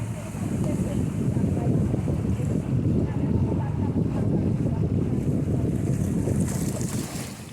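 A motorboat churns along a narrowing jungle river in strong currents, engine drone mixed with heavy wind buffeting and splashing, steady and close.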